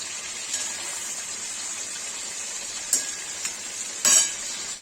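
Paneer frying in hot oil for Kashmiri saag gives a steady, bright sizzle, with a few sharp utensil clinks and a louder stirring scrape near the end; no one speaks.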